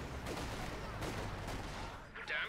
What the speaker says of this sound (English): Grenz and Volks and Sturm Omai are trying to shoot it down